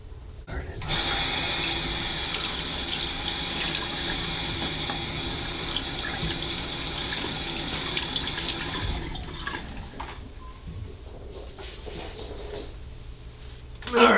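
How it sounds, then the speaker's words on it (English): Water runs from a tap into a sink to warm it for bathing kittens, a steady close hiss and splash that lasts about nine seconds before stopping, followed by quieter handling sounds. "what I like to do is I get the water going to where it's a good warm temperature"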